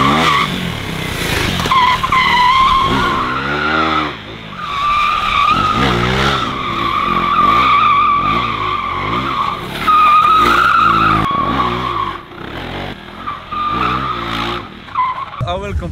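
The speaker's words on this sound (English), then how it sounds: "Gonna drift around the corners, that's my challenge." A 2024 KTM Duke motorcycle drifts around corners with repeated loud tire squeals and skids, its engine revving and rising in pitch between slides, close and intense throughout.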